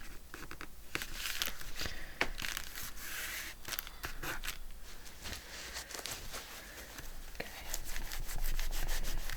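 Dry rubbing and scraping against a handmade altered journal cover being made, a steady close scratchy friction with a few sharp crinkling ticks, no voices.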